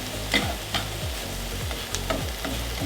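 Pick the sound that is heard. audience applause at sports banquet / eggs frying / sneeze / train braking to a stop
eggs frying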